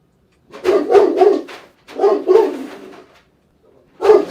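A dog named Brownie close by, letting out bursts of rapid barks and whimpers in three separate clusters with short pauses between them.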